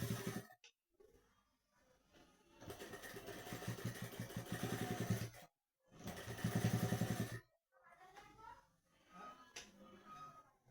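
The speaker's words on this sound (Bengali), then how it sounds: "দিয়ে এবার ধার থেকে একটা সেলাই দেবো, বডির ধার থেকে আর হাতা হাফ ইঞ্চি দূর থেকে একটা সেলাই দিচ্ছি।" Electric sewing machine running in bursts as it stitches a sleeve onto a ready-made garment at a tailor's shop, a loud rapid mechanical whir with short pauses between runs, a voice talking at the end.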